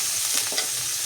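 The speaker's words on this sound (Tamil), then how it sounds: "நல்லா வதக்கணும்." Onions, tomatoes and green chillies sautéing in a pan with curry leaves and vadagam for a fish curry, a steady loud sizzle with faint stirring scrapes and no voices.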